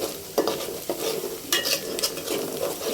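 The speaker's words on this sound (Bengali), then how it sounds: "পেঁয়াজটা লাল লাল করে ভাজতে হবে।" Onions and spice paste frying in oil for biryani, a steady sizzle broken by a few sharp scrapes of a spoon stirring the pan, close and moderately loud with no talking.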